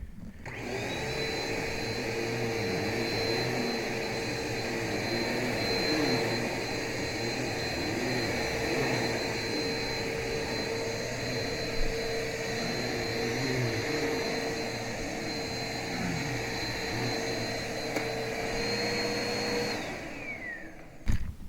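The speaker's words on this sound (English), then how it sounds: "this vacuum drags so heavily" A vacuum cleaner drones steadily at close range on long-pile carpet, dragging heavily, with a constant whine and rumble, cutting off abruptly at the end.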